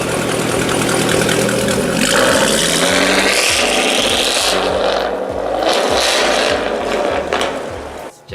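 A 2013 Jaguar F-Type's V6 engine runs loud and close, a steady throaty idle that swells into revving with pulsing rises and falls, heard alone without any talking.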